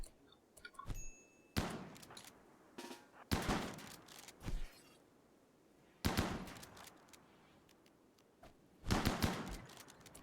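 Scattered gunshots in the game Fallout, with irregular bursts and single cracks separated by quieter gaps, set against light clinks and ambient game noise.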